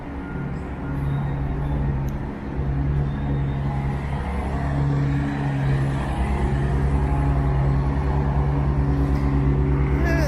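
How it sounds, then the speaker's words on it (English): A street vacuum truck that sucks up garbage rumbles by on a Toronto city street in the early morning, a steady loud engine drone with a low mechanical hum, heard close throughout over ambient street noise. "There's one of the garbage sucking vehicles."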